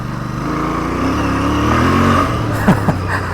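Royal Enfield Interceptor Bear 650 motorcycle spinning its rear wheel, a loud sustained engine roar with rising revs and tyre scrub, ending in a couple of short sharp bursts.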